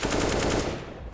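A quick burst of rapid gunfire from a shooting video game, loud and close, fading off within about a second, with no talking.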